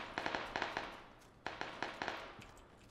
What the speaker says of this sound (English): I heard him shoot.